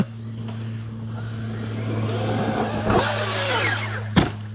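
Traxxas X-Maxx RC truck electric motor revving at full throttle, a rising whine over a steady hum with a sharp clatter near the end, heard alone outdoors at moderate distance.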